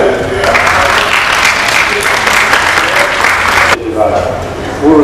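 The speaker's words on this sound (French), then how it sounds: "J'aimerais qu'on nous donne une acclamation pour cela." Dense, loud audience applause at a French-speaking corporate event fills the room in a sustained roar, then cuts off sharply near the end as a voice begins speaking.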